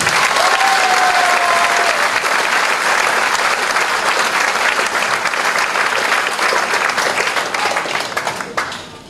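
A packed hall audience at a children's concert breaks into sustained, loud applause, dense clapping filling the whole stretch before thinning out at the very end.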